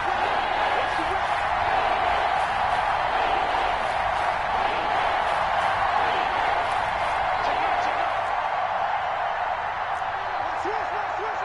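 Stadium crowd noise during a PS4 football game broadcast: a steady, dense roar of many voices with occasional whoops, continuous and fairly loud throughout, with no clear commentary on top.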